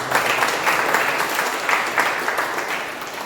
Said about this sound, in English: So I think definitely a better round of applause for the consistency.